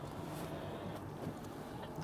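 Wind blustering over a fishing boat out at sea while kite fishing for king mackerel, a steady low rushing roar with microphone buffeting and no voices.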